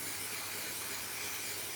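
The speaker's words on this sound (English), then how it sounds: "Heavy duty adhesive spray is the cheapest I could find." Heavy duty adhesive spray hisses from an aerosol can onto card during a puppet build, a steady, close, unbroken spray lasting under two seconds.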